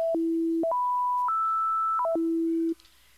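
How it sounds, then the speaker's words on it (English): A clean synthesizer tone jumps between steady pitches in octave steps, climbing higher then dropping back down, alone with no talking. "if I play that and turn the coarse one up, it goes up an octave at a time"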